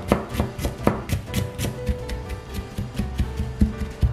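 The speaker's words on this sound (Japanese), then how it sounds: "生姜はね、もう皮付きのままで大丈夫です。 こちらはですね、みじん切りにしていきます。" A knife minces unpeeled ginger on a cutting board in quick, steady chops that land close and crisp, with no talking over them.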